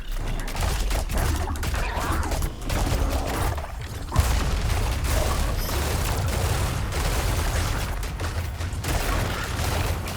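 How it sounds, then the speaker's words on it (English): Rapid in-game gunfire during a mini-boss fight in Hyper Light Breaker, a dense, continuous fusillade of loud shots with a single sharper bang midway, played over a busy game soundscape. "Let's get the gun out."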